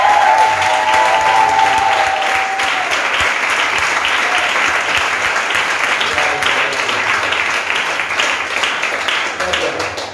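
A church congregation applauds and acclaims the Lord with loud, dense clapping and crowd voices that start full and gradually taper off toward the end.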